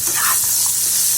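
Long pieces of ivy gourd hit a pan of onions fried light brown, giving a loud, steady, dense sizzle that holds throughout with faint stirring underneath.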